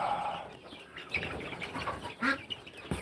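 Black sex-link chickens cluck softly in a yard, with a few short, scattered clucks and light rustling over a quiet background.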